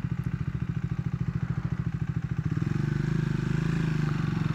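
Triumph 400 motorcycle engine (Scrambler 400X / Speed 400) pulling away downhill in second gear, a steady close, loud pulsing single-cylinder thump that smooths into a continuous drone partway through.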